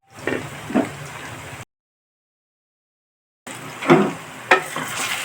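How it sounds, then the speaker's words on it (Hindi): Chicken frying in a pan for a quick green chilli dry dish, giving a steady close crackling hiss in two stretches split by a short silent gap, with a few louder pops. "आफ्टर हाफ आवर मैंने इसके अंदर ये चिकन को फ्राई करना शुरू किया है।"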